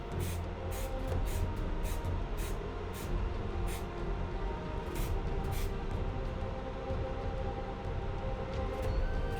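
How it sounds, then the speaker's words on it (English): Repeated hissing bursts from an aerosol spray can painting a toy, short sprays spaced irregularly over a steady background rumble. "I still find myself using spray cans on the colors that I can't find"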